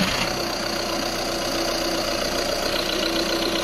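A Volkswagen Golf 6 engine runs at a steady idle after starting to fill the cooling circuit with coolant. The hum stays steady and close throughout, with no voices.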